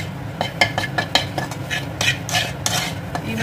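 Roasted cumin and chilli powder stirred into a dry filling in a pan for Mughlai paratha, a close run of rapid metal scrapes and clinks of the utensil against the pan, no talk.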